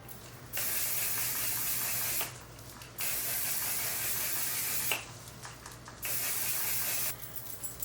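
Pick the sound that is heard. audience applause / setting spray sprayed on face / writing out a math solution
setting spray sprayed on face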